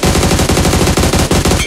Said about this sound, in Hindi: मेरे को गोलियां पड़ी।